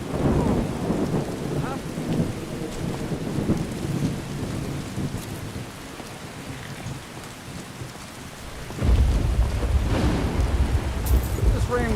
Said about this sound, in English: This rain will stop eventually.